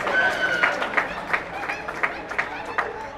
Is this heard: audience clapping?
yes